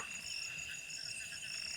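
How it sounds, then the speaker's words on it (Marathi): A dense, continuous chorus of chirping crickets fills the night air, shrill and unbroken, with a faint low background hum. "रातकिड्यांचा नुसतं काहूर"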